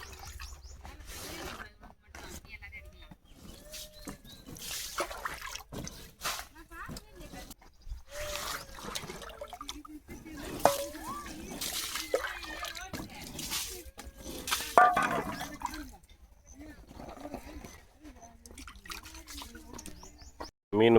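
Leaves are washed by hand in a tub of water, giving soft, close splashes, drips and sloshes in irregular bursts, with people talking at times.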